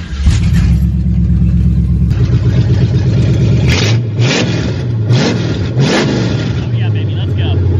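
Shelby 1000 widebody car engine right after a cold start: a loud, close idle that breaks into several sharp rev blips, each rising and falling, with a person talking over the engine noise.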